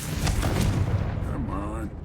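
Confringo fire spell blast in the Hogwarts Legacy video game, a burst of rumbling booms and crackles that fades quickly, with a brief vocal sound near the end.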